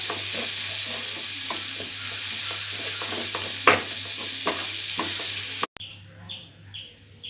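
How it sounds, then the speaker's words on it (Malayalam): Chopped tomatoes sizzle and fry in a pan for Karimeen fish masala, with a steady close hiss broken by repeated stirring scrapes; the sizzle cuts off abruptly near the end, leaving faint clinks. "നമ്മൾ അരിഞ്ഞു വെച്ചിരിക്കുന്ന രണ്ട് തക്കാളിക്ക് ഇട്ട് കൊടുക്കാം"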